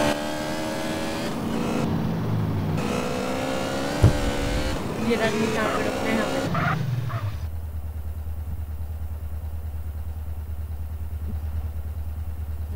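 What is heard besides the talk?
motorbike engine riding in a video game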